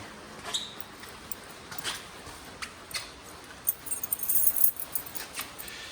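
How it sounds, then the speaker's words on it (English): Keys jangle and clink in short bursts while being picked up and handled during a walkaround of a Bushcamp Explorer X-Demo camper trailer, close and moderately loud, busiest toward the end. "I'll just grab the keys and show you that."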